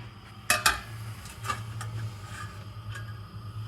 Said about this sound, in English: I'm going to cover it with a plate